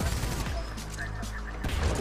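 Spitfire machine gun fire in Titanfall 2, a rapid, dense burst of automatic shots with mechanical clatter, loud and close, mixed with game ambience.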